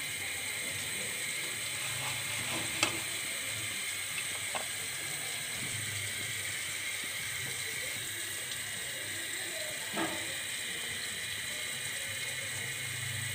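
Burger ingredients frying in a pan at home, a quiet, steady sizzle with a few faint clinks and scrapes, no talking.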